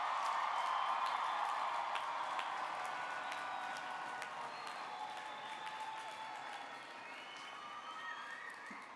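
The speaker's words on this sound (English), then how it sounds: "Let's give our graduates another round of applause." A commencement crowd at a Miami-Dade College ceremony gives the graduates a sustained round of applause, dense clapping with some cheering that starts strong and slowly thins over several seconds.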